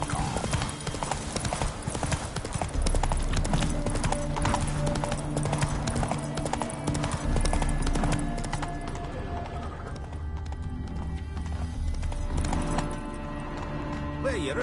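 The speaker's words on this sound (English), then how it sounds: "Heavily laden horse." Steady clip-clop of a heavily laden horse's hooves trotting close by in The Witcher video game, a continuous rhythmic beat over ambient game music and light background noise.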